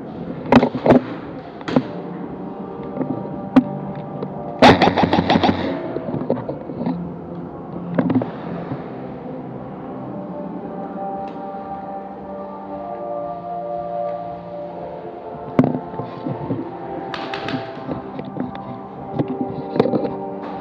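Airsoft guns firing during an indoor arena team deathmatch round, scattered sharp pops and a quick cluster of shots echoing in a reverberant space, moderately loud with quieter stretches between.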